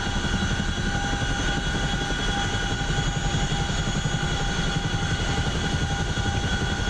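A helicopter in the DCS World flight simulator drones with a constant loud, steady rotor and engine roar throughout, with no talking.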